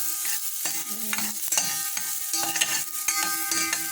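A ladle stirring macaroni in a steel saucepan, repeated close clinks and scrapes in an uneven rhythm over a light sizzle, with no voices.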